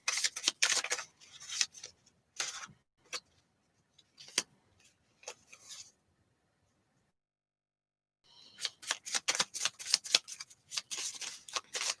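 Tarot cards are shuffled in quick, crisp riffling bursts, then a pause of near silence, then another flurry of rapid shuffling close by.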